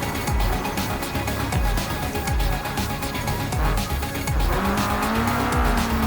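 A front-wheel drive car's tires squeal as it slides out with lift-off oversteer in the driving simulator BeamNG.drive. The engine roars loudly throughout, and a rising squeal comes in near the end.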